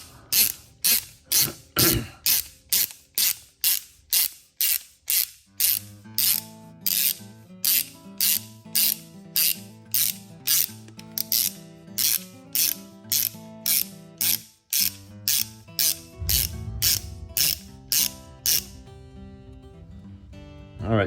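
Ratchet tightening a fastener during a Tekno SCT410.3 short course RC truck kit build, a rapid series of close, crisp clicking strokes repeating steadily, later joined by soft tonal music beneath the ongoing clicks.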